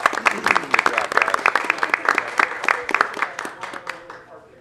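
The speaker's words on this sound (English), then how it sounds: "Let's give them a round of applause" A school board meeting audience gives a student team a round of applause, steady dense clapping of many hands that tapers off at the end, with some talk mixed in.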